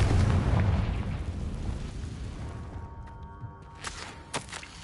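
Blasting-curse explosion in a Harry Potter video game, one heavy, loud boom with a long rumbling tail that fades, followed by a few faint sharp pops.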